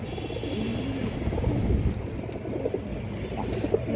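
Pigeons of colored fancy breeds kept in a loft, cooing softly in low, throaty bursts over a quiet background hum, with a few faint chirps.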